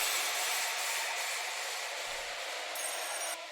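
A washed-out riser and alarm effect from a riddim track: a bright, sustained filtered noise wash with the lows cut, holding steady before a brief higher shimmer and a slight drop near the end.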